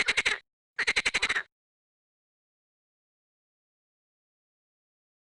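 Two bursts of rapid, rattling frog croaks in a children's video game, the second longer, followed by a long silence and the start of another croak at the end.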